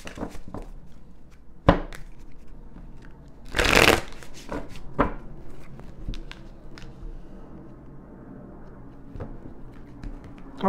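Tarot cards being shuffled by hand, with soft riffling taps and one louder burst of rapid shuffling near the middle, close and clear in a quiet room with no talking.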